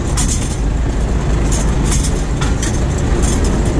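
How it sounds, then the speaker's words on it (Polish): Steady, loud rumbling of a vehicle passing nearby, with a continuous low roar and faint rhythmic clatter throughout. "Zjadę, bo jakieś auto jedzie."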